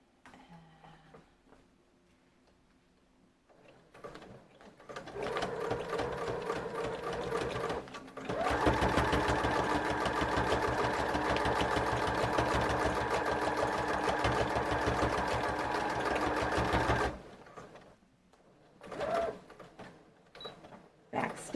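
Close, loud sewing machine stitching a Christmas junk journal: a long continuous whir of rapid stitches lasting several seconds, framed by quieter handling and brief start-up runs.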